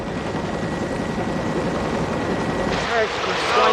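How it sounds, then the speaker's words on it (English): A search and rescue helicopter flies overhead, its rotor and engine producing a steady, moderately loud droning wash that swells slightly toward the end. "A Mediflight helicopter was also dispatched from more than 50 miles away, along with a search and rescue helicopter."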